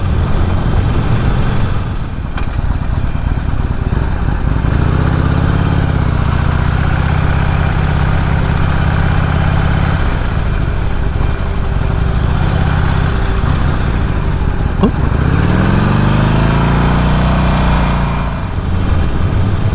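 A Harley-Davidson Forty-Eight Sportster motorcycle engine running loud and close, a deep steady rumble with rising and falling revs as it pulls and shifts, continuous throughout with no talk.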